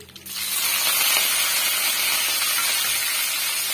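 Curry leaves dropped into hot tempering oil for Andhra pappu, where mustard seeds have already spluttered, burst into a sudden loud, steady hiss that holds evenly until the end.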